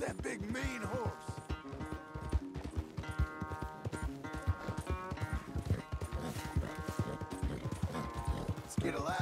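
Hoofbeats of a horse galloping in Red Dead Redemption 2 drum steadily through the clip, set against loud game music with someone talking over it.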